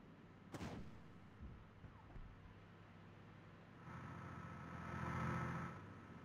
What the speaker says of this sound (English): I'm actually going to use my HE mortar.